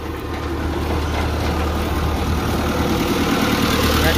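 The diesel engine on a New Holland Stackliner 1002 bale wagon idles steadily and close by, a loud, even low rumble with a faint rhythmic chug running unbroken throughout, no voices.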